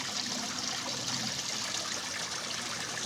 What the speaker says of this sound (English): Still water here because it's coming out of that lake opposite.